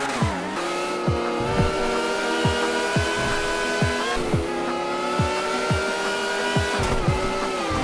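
The Benefactor BR8 open-wheel race car from GTA Online screams at high revs with a loud, buzzy engine tone, broken by a quick series of rhythmic gear shifts or blips roughly every half second.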